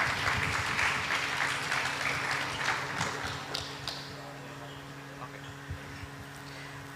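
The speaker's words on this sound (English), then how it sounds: "give a round applause again" An audience at a cycling history conference applauding, dense clapping that fades out over a few seconds, with a low hum beneath and faint voices at the end.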